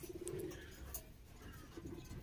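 A pigeon coos softly twice, a short low throaty burble at the start and again near the end, over quiet background noise.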